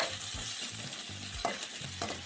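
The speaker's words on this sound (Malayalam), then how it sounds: "ഇതിന് നമുക്ക് നന്നായിട്ടൊന്ന് വഴറ്റിയെടുക്കാം." Chopped ginger and garlic sauté in hot oil in a pan for beef stew, a soft steady sizzle broken by repeated scraping strokes of a spoon stirring.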